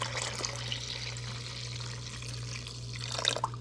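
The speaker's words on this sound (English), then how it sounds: "our recipe actually calls for another quart of water. So we're going to go on ahead and add that in now" A quart of water pours into a pot of thick chicken gravy for Southern-style chicken and dumplings, a soft steady trickle that swells into a brief louder splash near the end, with no talk.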